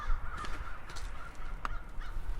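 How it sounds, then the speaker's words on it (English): Crows cawing in the distance, a few harsh calls rising over a steady outdoor background hum, no voices. "you can hear the crows"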